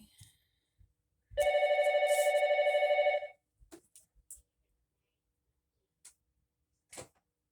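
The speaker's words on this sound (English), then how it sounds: "My phone wants to ring every time I make a video." A telephone bell rings in one sustained burst of about two seconds, fairly loud and close, followed by a few faint clicks and knocks.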